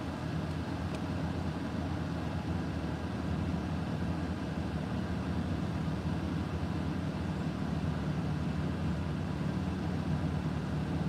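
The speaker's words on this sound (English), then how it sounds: "The car itself will kick down here in a minute, I think, and be a little less noisy." A car engine idles steadily close by, a constant low rumble filling the whole stretch alone, with no talking over it.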